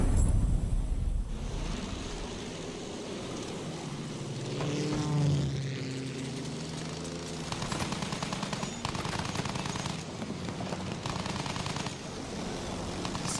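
A propeller aircraft drones overhead in the World War I shooter Battlefield 1, its engine rising and fading amid rattling machine-gun fire and battlefield noise.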